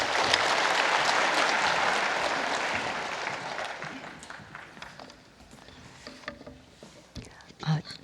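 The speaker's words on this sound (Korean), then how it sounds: "박수 한번 드리십시다." A church congregation applauds for a woman about to give a testimony, a broad wash of clapping that fades over several seconds into scattered claps, shuffling and murmured voices.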